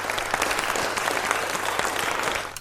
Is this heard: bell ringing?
no